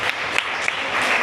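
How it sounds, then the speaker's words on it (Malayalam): An audience clapping together in a hall during a nursing motivational session, a steady close burst of applause filling the whole moment with no voices. "ഓക്കെ, ഒരു ക്ലാപ്പ് കൊടുക്കി."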